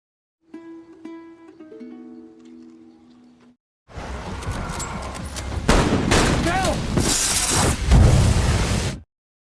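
A gunfight from an episode of The Last of Us series breaks out after a short melodic tone, with dense close gunfire, bangs and impacts building louder over the last five seconds.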